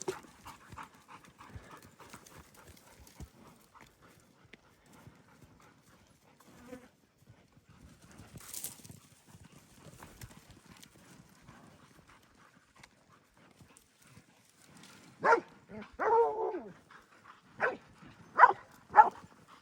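Dogs panting and barking outdoors, faint and scattered at first, then several sharp, close barks in the last few seconds.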